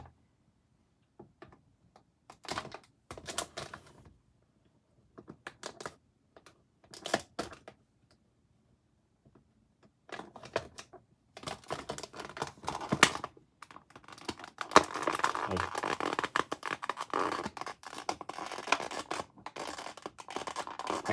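Repeated close snipping and crinkling in short bursts, sparse at first and then busier and more continuous, as scissors cut plastic packaging strings on boxed Sonic and Shadow figures.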